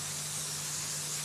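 Airbrush spraying background paint onto Tyvek, a steady close hiss of air and paint with no pauses, alone without talk.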